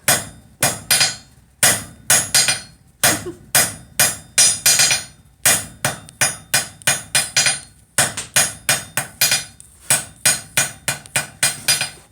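A blacksmith hammers hot steel on an anvil to draw out a taper in a single heat. Sharp, ringing blows land in quick bursts of three to five, separated by short pauses, loud and close with no talking.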